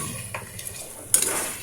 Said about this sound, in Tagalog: Ayan na ang ating chicken. Gisa ko to ng maayos para mabango.